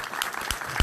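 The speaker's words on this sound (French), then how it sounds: "On peut l'applaudir aussi." Brief burst of audience applause at a lecture on suicide and the afterlife, a few loud, sharp claps in under a second.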